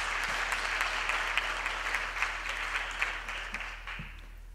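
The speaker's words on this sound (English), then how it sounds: "And I think they deserve another applause." Audience applauding singers at a university graduation ceremony on the VUT main campus, a steady, moderately loud wash of many hands clapping that keeps going without a break and tapers off slightly near the end.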